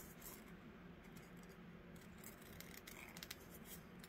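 Quiet crisp snipping and rustling of scissors cutting paper, a steady run of small cuts close by with no talking.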